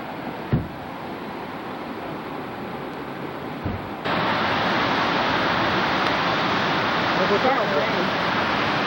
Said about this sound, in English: This is the waterfalls next to where they filmed Dancing the Wolves.